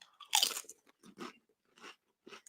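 Crunchy chips being bitten and chewed up close, one loud crisp bite followed by several shorter crunches spaced out over a couple of seconds, with no talking.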